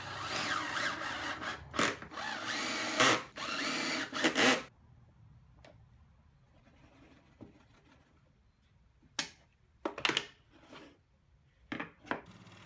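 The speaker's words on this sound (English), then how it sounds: "Towards one end I drilled a 25mm hole down into the jig with a Forstner bit." A 25mm Forstner bit drilling down into a scrap pine jig holding a dowel: a steady, dense grinding whir for about four seconds, then quiet stretches broken by brief knocks and bursts of handling noise.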